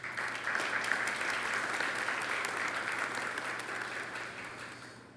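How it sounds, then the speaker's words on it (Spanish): Steady applause from a large audience at an academy of sciences induction ceremony, a dense continuous wash of clapping heard from a moderate distance, holding level before easing off near the end. "don Mariano Germán y don Subero Isa, a quien pido un aplauso para ellos dos."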